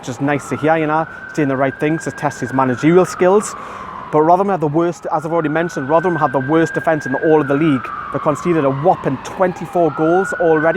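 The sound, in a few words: ambulance siren passing by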